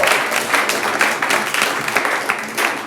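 A comedy-club crowd claps and cheers for actor Viola Davis during a stand-up set, the applause loud, dense and sustained with no speech over it.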